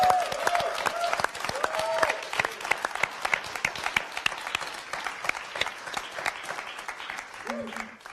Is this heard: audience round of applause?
yes